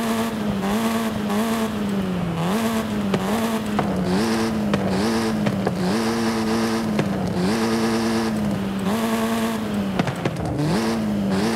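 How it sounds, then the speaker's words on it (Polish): Car exhaust in Forza Horizon 5, loud and close, revving up and down in repeated surges with gear-change dips and crackles, droning continuously with no talk. "Więc tutaj mamy dwa dźwięki wydechów,"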